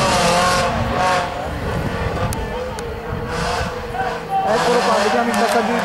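A BMW 318 IS race car rushes past in a mountain slalom, loud engine roar swelling and dropping as it goes by, with a spectator talking over the noise.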